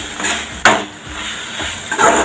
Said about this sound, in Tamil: பொரியல் வச்சு நல்லா கிண்டி விட்டுட்டோம்